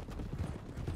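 Horse hooves clip-clopping in a rapid, steady rhythm as a rider gallops cross-country in Red Dead Redemption 2, close and fairly loud across the whole second with no talk over it.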